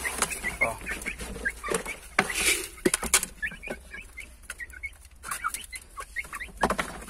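Laying hens clucking busily in a new chicken coop, overlapping close clucks and squawks with rustling and a few clattering knocks of feed and equipment.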